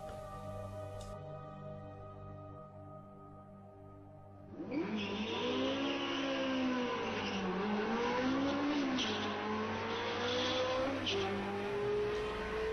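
An electric car accelerates hard, with a rising, sweeping whine and tire noise building abruptly after several seconds of quieter engine-like drone, loud and continuous to the end.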